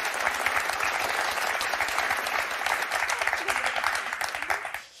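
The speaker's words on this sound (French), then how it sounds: "Je voudrais qu'on applaudisse Clarisse et Vincent, très fort." Studio audience on a French word game show bursts into steady, dense applause that fills the room for several seconds before cutting off near the end.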